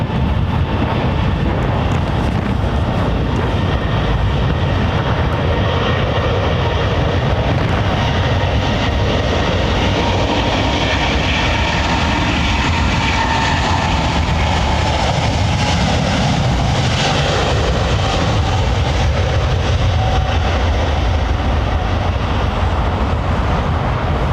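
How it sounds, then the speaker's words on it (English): Airbus A350 jet engines spooling up for takeoff at London Heathrow, a steady, loud broadband roar with a rumbling low end that swells slightly and stays constant throughout, with no voices. "Big titanium fan blades clattering away."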